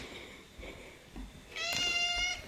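A house cat gives a single close meow near the end, after quiet rustling and soft knocks.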